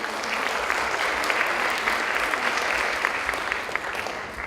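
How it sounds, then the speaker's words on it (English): Audience applause at the ASEAN Marine Environmental Protection Conference and Exhibition: a steady, dense wash of many hands clapping at once that holds evenly for the whole stretch, without any talk over it. "Please give applause to Marty Weisen."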